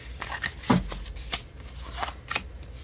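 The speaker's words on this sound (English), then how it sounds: "I'm just feeling the need to shuffle it my other way" Tarot cards are shuffled by hand in short riffling and rustling bursts, close and fairly soft, with a sharper snap near the start.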